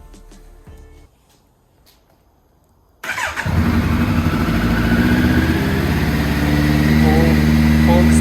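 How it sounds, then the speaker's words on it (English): Kawasaki Z900 motorcycle started outdoors in snowy 20-degree weather: near silence and a few clicks, then the engine catches abruptly and settles into a loud, steady idle up close. "I'm gonna turn on the bike"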